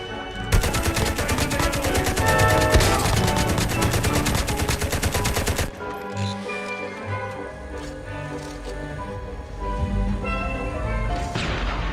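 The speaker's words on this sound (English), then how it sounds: "I'm shooting a few bullets to call their attention" Sustained rapid automatic gunfire from the mobile shooter game Call of Duty Mobile, loud and dense for about five seconds, then dropping to quieter scattered shots and game ambience.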